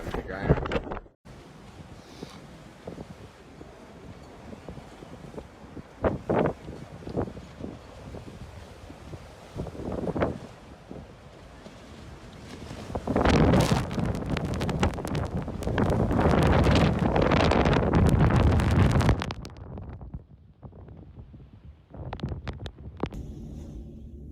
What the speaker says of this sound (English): It's windy and icy.